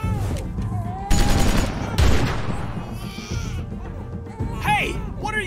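Gunfire in The Walking Dead Season 2 video game: a rapid burst of shots and a loud blast ring out near, mixed with game music and characters talking and shouting over the action.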